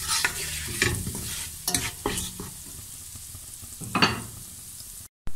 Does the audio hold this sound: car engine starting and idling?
no